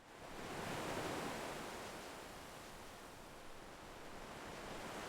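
Ocean waves wash in a continuous broadband hiss that swells at the start, eases, then builds again. No voices are heard.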